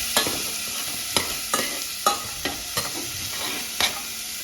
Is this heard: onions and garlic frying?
yes